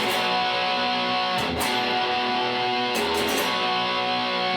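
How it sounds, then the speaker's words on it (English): Overdriven electric guitar plays the short chorus of a song: loud, sustained distorted chords with two brief strummed accents, close and with no talk. "Now let me do that whole chorus one time,"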